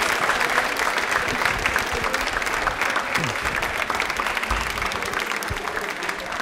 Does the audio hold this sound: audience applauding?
yes